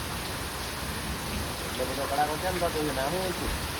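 Steady rain falling in an outdoor setting, a continuous wash of hiss throughout, with a voice speaking partway through.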